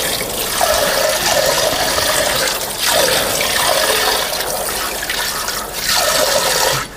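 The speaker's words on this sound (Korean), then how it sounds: "살살살 씻어서 문지르면 절대 안 돼요" Soaked beans are rinsed under running water, a steady close rush of water with gentle swishing surges as the beans are stirred in waves.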